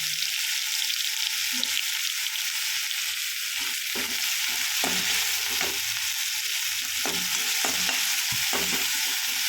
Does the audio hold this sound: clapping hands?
no